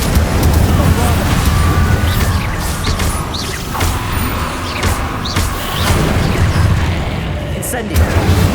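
Spell blasts from Bombarda, Confringo and Incendio go off in Hogwarts Legacy as loud booms and crashes that follow each other rapidly in the thick of a fight.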